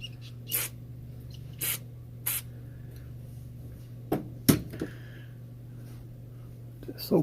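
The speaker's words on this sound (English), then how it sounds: "Just spray some carb cleaner in here." Short bursts of carb cleaner sprayed from an aerosol can into an exhaust, several quick hisses spaced apart over a steady low hum.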